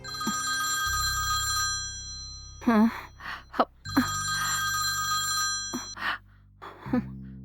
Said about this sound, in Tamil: ஸ்வீதா, இவ ஃபோன் பண்ணாலே பிரச்சனை தான்.